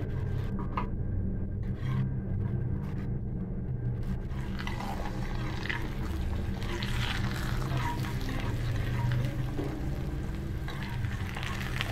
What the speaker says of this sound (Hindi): हम इस पे घी लगा लेंगे और इसे अच्छी तरह से पका लेंगे